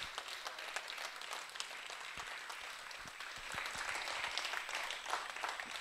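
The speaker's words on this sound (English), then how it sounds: "nous allons encore applaudir chaleureusement Maram" Audience at an international symposium on women in democracy in Dakar applauds a speaker, a steady wash of many hands clapping throughout, swelling slightly louder toward the end.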